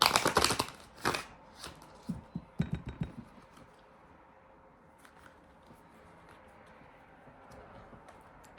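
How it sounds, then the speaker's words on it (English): A deck of cards is shuffled and cut in a few quick, close clattering bursts at the start, then handling sounds fade into quiet room tone with faint ticks. "I'm gonna cut this deck after I shuffle it"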